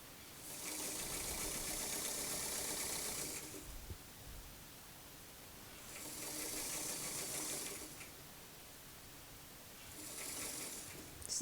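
A sewing machine stitches through trimmed seam allowance on a tucked ruffled dress (Butterick 6872), whirring in three bursts of a few seconds each with quiet pauses between, soft and close.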